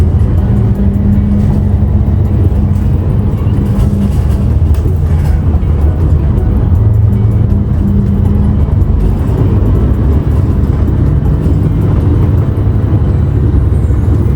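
Steady, loud engine rumble and road noise inside a bus heading downhill toward Yudanaka station, a continuous low drone with no talking.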